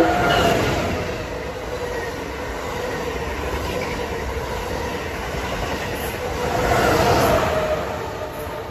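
A train rumbles and clatters steadily on the rails approaching Pawtucket/Central Falls station, the noise swelling louder toward the end as it draws nearer.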